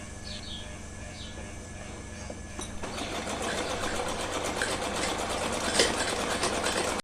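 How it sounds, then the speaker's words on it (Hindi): An electric sewing machine stitches a small dress for a Laddu Gopal idol. After a quiet start with light handling, it runs in a rapid, even, close mechanical whir for the last four seconds. "यहाँ सिलाई लगा लेंगे"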